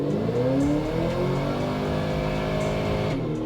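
A supercharged, cammed 2010 Camaro SS with a Kenne Bell blower pulls hard in third gear on a dyno: a loud, steady, close engine roar with rising harmonic tones throughout.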